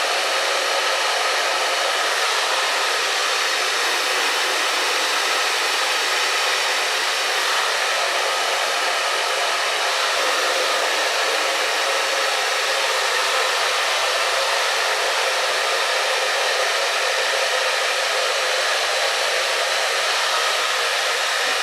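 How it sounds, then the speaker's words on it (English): A Matakki Supernova hairdryer with a diffuser blows on low power and low heat, a steady, loud, close, airy roar with no break across the whole stretch and no talking. "we're going to use the Matakki Supernova hairdryer with a diffuser. We're going to use low power, low heat"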